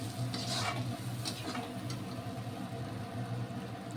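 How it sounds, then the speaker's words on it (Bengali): Spices being fried and stirred in a pan for a Bengali coconut prawn curry, a soft continuous sizzle with a few brief scraping stirs early on, fairly quiet and without talk. "তো মশলাগুলো আমি ভালো করে ভেজে নিচ্ছি।"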